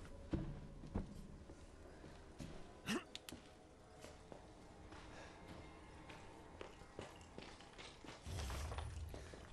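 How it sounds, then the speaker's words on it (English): Faint footsteps in the survival horror game Resident Evil 7, a few soft scattered thuds and steps over a quiet, hissy room ambience. "I still hear him walking."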